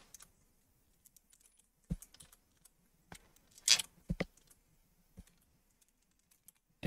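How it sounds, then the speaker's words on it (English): Code being typed on a computer keyboard while building an Arma 3 scenario: sparse, irregular key clicks close by, with a brief burst of quicker taps midway and quiet gaps between. "So we're just typing ammo."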